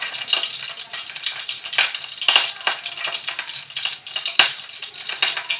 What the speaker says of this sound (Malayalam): ഈ ചുമന്നുള്ളി കടുകൊക്കെ പൊട്ടി വരുമ്പോൾ